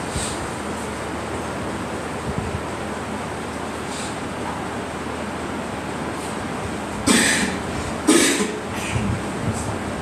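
A person coughs a few times in short bursts near the end, close to the microphone, over steady wind-like background noise.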